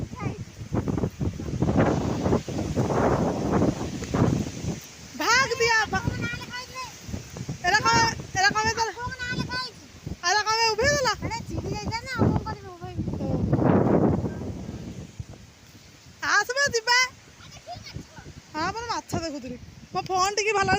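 Strong gusty wind on a rainy day, buffeting the microphone in rumbling low bursts that come and go while people talk over it.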